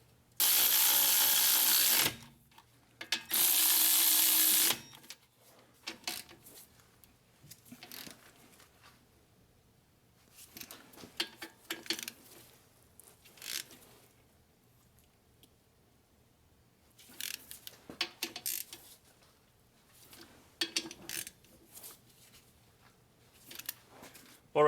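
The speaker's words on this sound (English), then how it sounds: "So now we're gonna tighten the caliper bolt." A ratchet tightens a caliper bolt on a Nissan Murano, with two loud bursts of clicking at the start followed by scattered softer ratcheting clicks and clanks from the tool.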